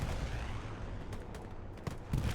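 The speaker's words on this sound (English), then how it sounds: "Strafing run comes in." Distant rumbling gunfire and explosions from a strafing-run airstrike in the video game Hell Let Loose, with a steady dense roar and a few sharper bursts near the end.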